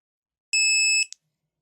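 A single short electronic beep from a dog shock collar switching off, high-pitched and tonal, lasting about half a second and followed by a tiny click, in otherwise silent surroundings.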